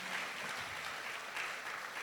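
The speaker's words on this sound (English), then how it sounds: "Clap for the Lord because that is not stolen." A church congregation at UCC Kasubi clapping for the Lord, giving a dense, even wash of many hands at a distance, quiet and steady, with no talk over it.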